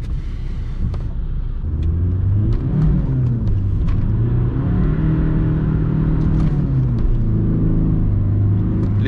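A 155 hp Audi A3 1.9 TDI diesel accelerates through city traffic, its engine drone climbing steadily in pitch as it pulls, with a continuous close rumble inside the cabin and no talk.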